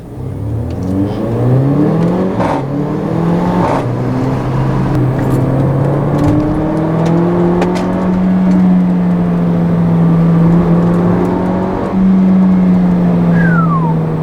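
A 2015 Mercedes-Benz GLA 45 AMG crossover accelerates hard, its engine note climbing steadily through the gears in a loud, continuous rising drone heard from inside the cabin, with no talking.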